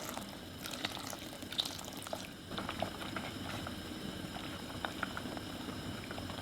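A pot of chicken and corn soup, thickened with cornstarch slurry, simmers steadily, giving a soft continuous bubbling with faint pops and light clinks, fairly quiet, with no voices.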